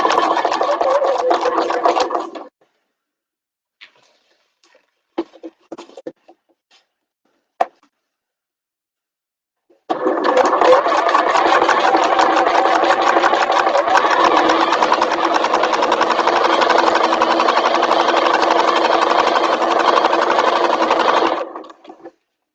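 Sewing machine stitching down a bag seam: a loud, close, steady mechanical whir for a couple of seconds, a pause with faint clicks, then a long continuous run of about eleven seconds.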